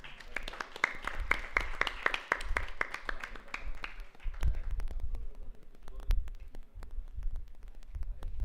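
An audience at a hackathon final round and closing ceremony claps for a team, scattered individual hand claps rising and falling at moderate distance over a faint hum.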